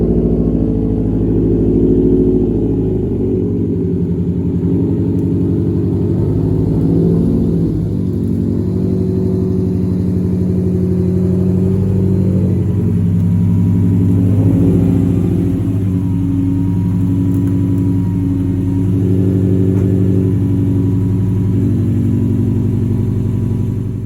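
Car fitted with a carbon fibre body kit and diffuser slowly reversing in, its engine a steady close rumble with a few soft revs and throttle swells across the whole stretch, no voices.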